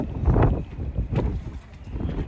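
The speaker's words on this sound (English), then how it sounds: "Wind's picking up." Wind gusts buffet the microphone outdoors, producing a loud, continuous rumbling roar that swells and eases over a couple of seconds, with nothing else audible.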